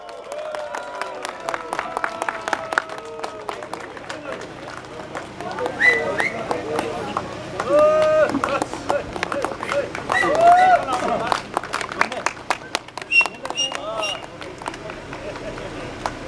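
Audience applause greets a golf tournament award winner at a prize ceremony in Pokhara, with dense clapping, a few whistles and cheers, and a voice speaking over parts of it.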